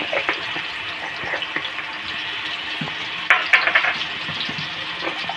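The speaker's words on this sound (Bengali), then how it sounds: "কালো জিরে ফোড়ন দিয়ে দেবো" Nigella (black cumin) seeds sizzle and crackle in hot oil, a steady frying hiss with a few sharper pops and stirring noises.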